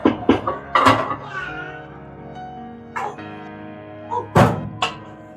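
An IFB microwave oven door is opened: a couple of solid thunks and clicks with short gaps and faint tonal sounds between them.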